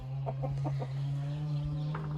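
Laying hens clucking close by in a henhouse, a series of short, choppy clucks over a steady low hum, with no talking.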